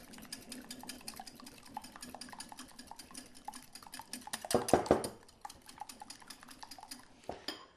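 Egg and sugar beaten together in a bowl for homemade custard, a busy run of quick rhythmic clinks and scrapes from the utensil against the bowl, close and steady, with one louder swirl of stirring partway through.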